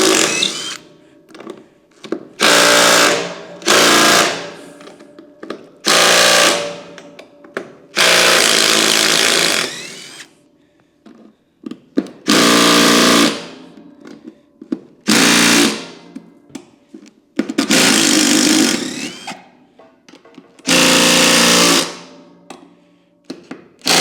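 Power screwdriver repeatedly driving large screws into a steel gooseneck trailer frame while mounting a coupler, in loud whirring bursts of one to two seconds separated by short pauses, close by with no talking.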